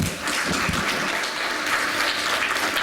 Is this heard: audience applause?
yes